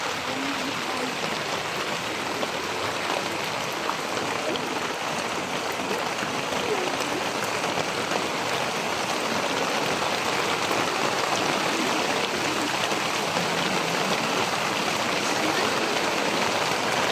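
Steady, dense rain falls outdoors for the whole stretch, a constant close hiss of drops on surfaces with no pauses and no talk.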